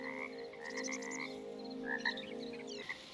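Frog croaks from a player character in frog form in Hytale, a steady low throaty croaking with brighter chirps on top, continuous and fairly close over the full stretch with no talk.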